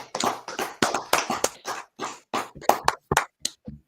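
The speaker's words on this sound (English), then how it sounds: "Clap it up" Hand claps at a gathering, a dozen or so sharp, uneven claps close to the microphone, not quite in a steady rhythm, with no talk between them.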